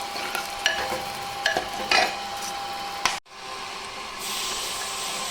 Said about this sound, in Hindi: इस तरह से हम पहले प्याज को भून लेंगे।